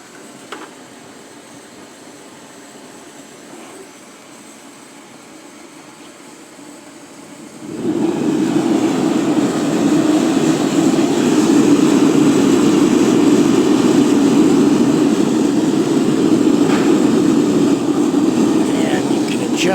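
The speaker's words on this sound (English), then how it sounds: "Start my needle valve, turn my needle valve on." A shop-built gas forge burner roars up after its needle valve is opened, a low background hiss suddenly swelling into a loud, steady, broadband rushing roar that holds to the end.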